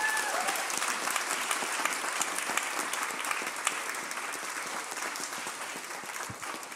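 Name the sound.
round of applause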